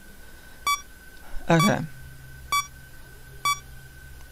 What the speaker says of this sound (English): I'm hoping the beeping isn't too loud.